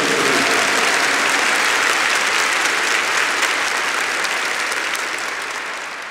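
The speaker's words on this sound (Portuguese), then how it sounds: "Give the Lord a big clap for" A church congregation clapping for the Lord, a loud, dense wash of applause that holds steady and then slowly tapers toward the end, with no voices over it.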